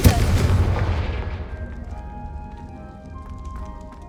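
Confringo spell blast in the Hogwarts Legacy video game, a sudden loud boom whose rumbling tail fades over several seconds into faint ringing tones.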